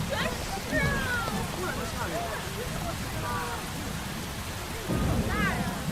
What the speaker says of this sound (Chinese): 怎么突然下这么大的雨啊？